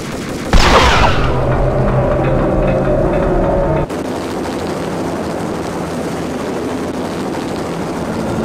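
Heavy gunfire aimed at thick cables in the video game Max Payne breaks out abruptly as a loud, continuous burst over a rumbling, helicopter-like drone, then cuts to a quieter steady roar; no one speaks.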